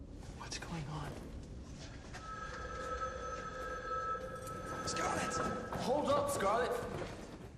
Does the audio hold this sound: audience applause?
no